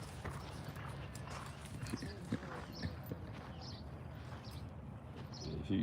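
Horse hooves clip-clop at a steady walking pace, fairly close, with a brief whinny-like sound and some background chatter and birds mixed in.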